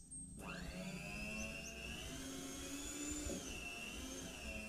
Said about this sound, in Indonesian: Untuk menguleni adonan aku pakai mixer, hand mixer Mito MX200 yang sudah dilengkapi kaki mixer khusus untuk mengulen.